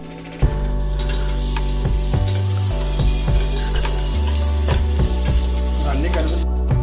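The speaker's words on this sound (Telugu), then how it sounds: "అల్లం వెల్లుల్లి పేస్ట్ వేసుకున్న తర్వాత పచ్చివాసన పోయేదాకా దాన్ని ఫ్రై చేసుకోవాలి" Ginger garlic paste sizzles and fries in a pan for jackfruit biryani, with continuous bright crackling and intermittent stirring clatters. Steady background music plays underneath.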